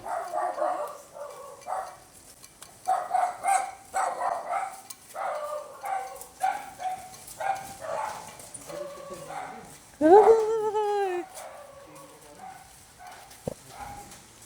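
A dog barks repeatedly in short bursts at close range, with people talking over and between the barks.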